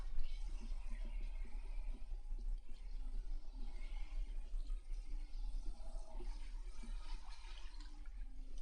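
Tap water runs steadily into a basin while shampoo is rinsed from a client's hair at a salon wash station, a soft continuous splash and trickle, fairly quiet, with faint voices in the background.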